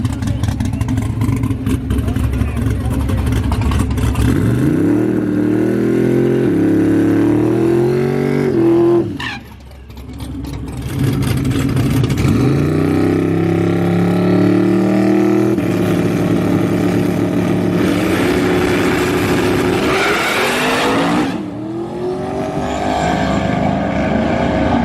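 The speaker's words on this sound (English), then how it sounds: "we turned it down some more on that pass and still just spun the tires right on the hit" A big-turbo stock-block LS drag car roars through a pass on small tires, loud and close, the engine note rising and falling as the tires spin, cutting out briefly before surging again.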